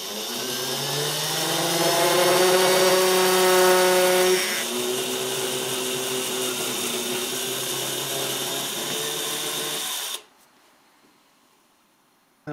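A power drill with a 2.5mm metal bit bores slowly into metal, giving a steady, close whine whose pitch shifts partway through, then cutting off abruptly near the end.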